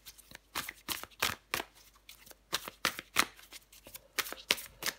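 Tarot cards shuffled by hand, a rapid run of crisp papery riffles and flutters in irregular bursts, close and clear, with no voice over them.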